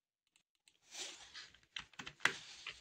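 Typing on a computer keyboard while drafting a building plan in AutoCAD: a quiet run of irregular key clicks with one sharper keystroke near the end, with no talk.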